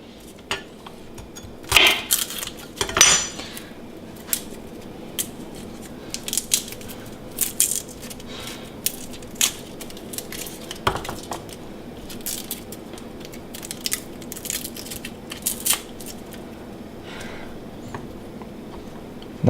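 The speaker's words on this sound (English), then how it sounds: "take the flat edge of your knife, press down on it slightly, and then that's going to allow that peel to come right off there" Garlic cloves pressed under the flat edge of a knife on a kitchen cutting board, a series of sharp clicks, knocks and crackling papery rustles spaced irregularly, close up with no talking.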